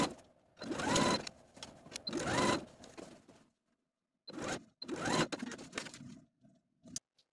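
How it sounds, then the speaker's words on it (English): A sewing machine topstitches along a zipper end in several bursts of rapid stitching, close and fairly loud, with short pauses between runs and a faint click near the end. "then you're going to top stitch along this zipper end"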